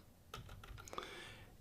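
Keys on a computer keyboard are struck in a quick run of soft taps, heard faintly against steady background hiss.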